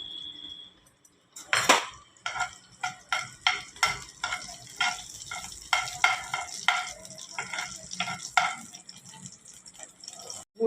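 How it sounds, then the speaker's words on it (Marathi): Cumin and mustard seeds drop into hot oil in a pan, setting off a sudden burst of sizzling, then repeated spitting, crackling pulses and scraping stirs close by. "आपलं आता तेल गरम झालेलं आहे, त्यासाठी मी जिरी आणि मोहरी हे पॅनमध्ये टाकत आहे।"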